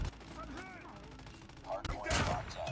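A shotgun blast goes off in Call of Duty Mobile, one sharp loud boom near the end with a burst of crackling echo, following a busy stretch of game sounds and a voice.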